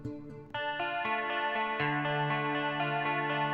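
Clean electric guitar playing sustained chords with a smooth, slightly effected tone, the notes changing every second or so, with no voices.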